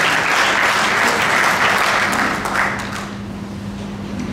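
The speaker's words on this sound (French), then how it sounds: "Je vous prie de l'accueillir avec des applaudissements." A ceremony crowd in Mali applauds a newly honored guest with a loud, dense roar of clapping that fades gradually, leaving a low hum beneath.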